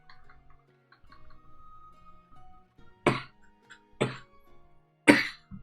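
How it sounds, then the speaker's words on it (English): Three sharp coughs ring out about a second apart against a quiet background with faint ticking. "sorry for cough"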